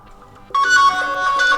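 The Orion ringtone plays on a Sharp C10 phone, starting with a soft tone and then swelling into a bright, layered electronic melody, loud and close for under two seconds.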